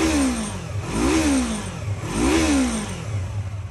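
A motorcycle engine revs twice, climbing sharply and then settling back to a rumbling idle, loud and close throughout.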